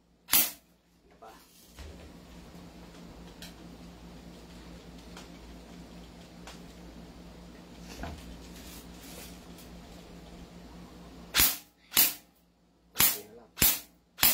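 An M4A1 carbine replica test-fires a quick run of four or five sharp, snappy shots near the end, loud and close after a quieter stretch with faint clicks and brief speech.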